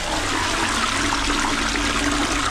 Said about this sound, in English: I'll just flush.